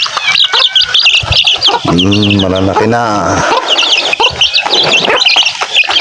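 Chickens on a farm cluck and call close by, with a loud drawn-out crow in the middle and busy chirping throughout, while someone speaks briefly over them.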